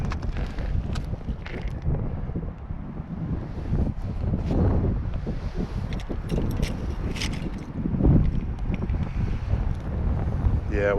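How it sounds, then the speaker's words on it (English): Strong wind buffets the microphone in a steady, rumbling roar that swells and gusts throughout, loud and close, with faint voices partly buried beneath it. "it is windy out here today"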